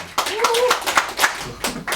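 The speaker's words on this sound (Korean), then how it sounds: "축하의 박수 부탁드리겠습니다" Congratulatory applause from an audience at a celebration for a business achievement, a burst of clapping that runs about two seconds at moderate level, with some voices mixed in.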